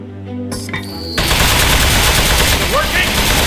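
Machine-gun fire in the Aperture Desk Job video game, a loud continuous burst of rapid shots that starts abruptly after a brief stretch of quieter game sounds and holds steady to the end.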